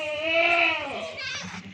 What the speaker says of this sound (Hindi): ये और ये बकरी है माशाल्लाह से, प्योर गुलाबी है। ये गुलाबी है माशाल्लाह से, राजनपुरी गुलाबी।